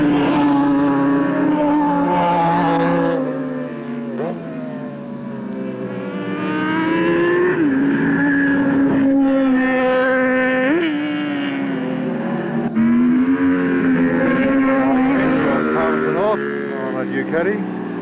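World Superbike racing motorcycles, including Ducatis, at the 1988 Manfeild round scream past one after another, their engine notes rising and falling as they pass, under continuous race commentary.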